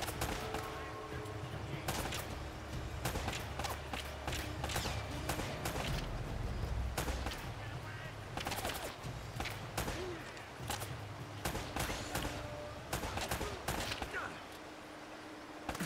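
Gunfire in an Uncharted action game snaps out in repeated sharp shots amid constant combat noise and rumble, heard under occasional talking.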